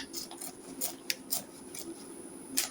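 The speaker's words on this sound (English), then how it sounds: "I'll just place my scissors like this and cut it like this" Scissors cut through fabric for a full circle sleeve, giving a series of soft irregular snips and crisp metallic clicks close by in a quiet room, with no talking.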